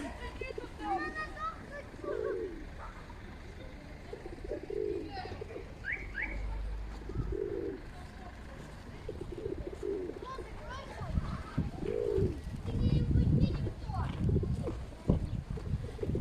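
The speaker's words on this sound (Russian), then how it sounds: "Голубей на площади, как всегда, море." Pigeons on a town square in Pechora, Komi, coo in soft low repeated phrases against a steady outdoor hum, with occasional thin chirps and louder rumbling noise building toward the end.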